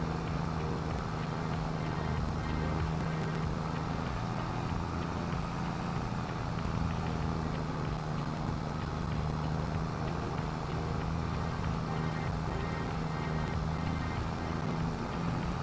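Tractor engine in Farming Simulator 22 while cutting silage grass, a steady, meaty, low diesel drone with a constant hum that holds at an even level without pause.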